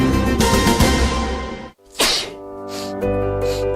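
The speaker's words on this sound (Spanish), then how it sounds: "Al estornudar y toser," A single loud sneeze sound effect in a health advertisement bursts out after a short silence, followed by a sustained noisy tail with no speech.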